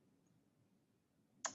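A single sharp computer mouse click at the very end, close and distinct, following a quiet stretch of faint room hum.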